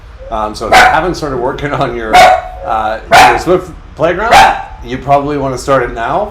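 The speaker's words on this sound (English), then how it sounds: "that's our alarm dog telling me you better get coding" A dog barks and yips repeatedly in short bursts close by, interleaved with someone talking over it.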